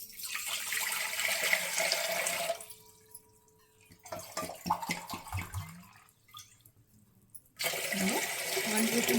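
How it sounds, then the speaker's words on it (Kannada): About a litre of water pours into a kitchen vessel for jaggery panaka in two loud, steady rushing bursts, with a quieter gap of small knocks and clinks between them. "ಇವಾಗ ನಾನು ಒಂದು ಬಟ್ಲು ತಗೊಂಡು ಇದಕ್ಕೆ 1 ಲೀಟ್ರ್ ನೀರು ಹಾಕ್ಕೊತಾ ಇದ್ದೀನಿ"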